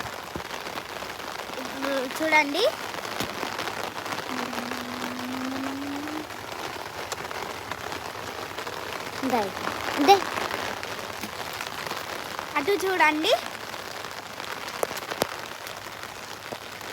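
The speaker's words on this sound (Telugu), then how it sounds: "మా బయట వర్షం పడుతుంది" Steady rain patters outside throughout, a soft continuous hiss beneath occasional voices speaking nearby.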